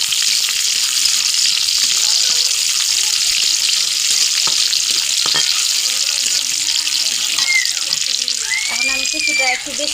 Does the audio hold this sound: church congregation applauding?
no